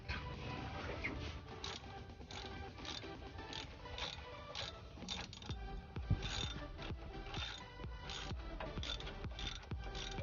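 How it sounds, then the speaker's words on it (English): Ratchet tightening the crankshaft position sensor bolt on a Cadillac Escalade, a rapid run of close mechanical clicks and ratcheting pawl ticks repeating steadily over a quiet background, with no speech. "So now I can use my ratchet and we can tighten it."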